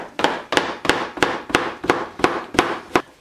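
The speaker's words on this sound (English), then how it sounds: "I take my zucchini and I'm just going to cut it into half medallions." A knife slicing zucchini into half medallions on a cutting board, nine evenly spaced, crisp chopping knocks, close and clear with no talk.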